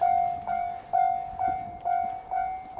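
A train passes on the opposite track near Imajuku, with a steady loud rumble and recurring tonal pulses of wheels and carriages rolling by up close.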